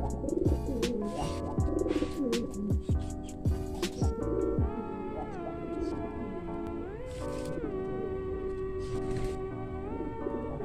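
Pigeons coo in low, throaty rolling calls, several overlapping nearby, with fluttering, scuffling bursts early on and a steady background hum.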